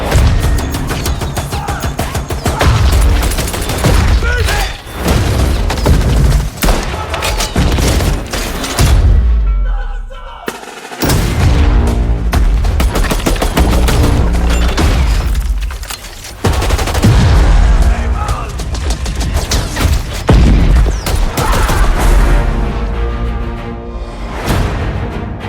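Dense, loud battle soundtrack from a Pacific Theater trailer for the Battlefield 5 video game, with sustained gunfire and booming explosions layered over music, nearly continuous apart from a brief drop to near-silence midway.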